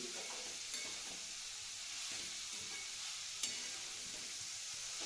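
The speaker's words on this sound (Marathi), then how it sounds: "सर्व तूप आहे ना व्यवस्थित ह्या गाजरला मिक्स करून घ्यायचं उलातीच्या साह्याने" Carrot halwa cooking in ghee and stirred with a spatula, a steady soft sizzle with faint scraping strokes and a couple of small clicks, close and fairly quiet, with no voices.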